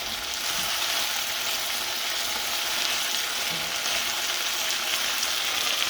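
Light-browned chicken pieces fry in a karahi with a steady, even sizzle and crackle that holds at a constant level throughout, with no talking over it.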